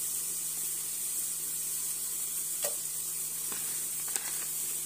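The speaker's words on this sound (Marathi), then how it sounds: "त्यात आता आपल्याला खडा मसाला घालून घ्यायचा आहे" Whole spices, bay leaf, a cinnamon piece and cumin, fry quietly in hot oil for masala rice, giving a steady faint sizzle with a few soft crackles.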